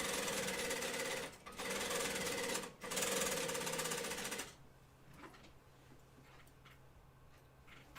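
A sewing machine stitching a second row on a flight suit, a loud rapid mechanical drone running for about four seconds with two brief pauses, then stopping, followed by quiet faint handling clicks.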